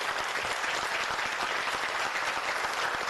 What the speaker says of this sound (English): Let's go ahead and give that a hand clap.